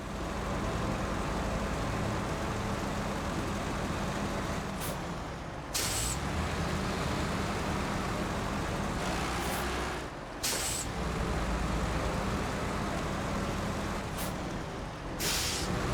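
A heavy ZiKZ 612H or Kolob 74760 truck in SnowRunner labours uphill with a steady deep engine drone, punctuated by several sharp air-brake hisses, all near and loud with no talking.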